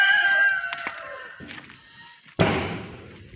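Chickens inside a backyard coop crow and cluck through the first half, then a door slams loudly near the end as the coop is left behind.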